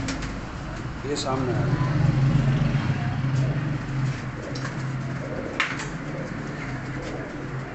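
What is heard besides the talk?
Sialkoti pigeons cooing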